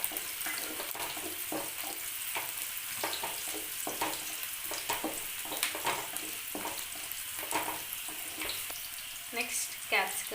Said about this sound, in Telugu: ఈ ఆనియన్స్ కొంచెం ట్రాన్స్పరెంట్ వచ్చే వరకు ఫ్రై అవ్వాలి.